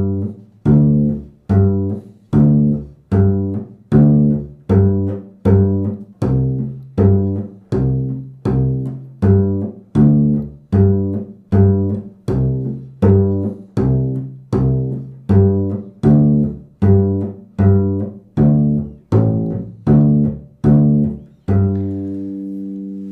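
Bass playing a bluegrass root-fifth pattern in G, steady plucked notes alternating in an even rhythm for over twenty seconds, close and clear with no voices.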